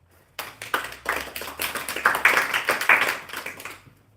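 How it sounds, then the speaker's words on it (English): Scattered hands clap in a small audience at a book talk on San Francisco Bay Area environmental history, a sparse, uneven round of distinct claps rising and then tapering off. "You can give him a round of applause."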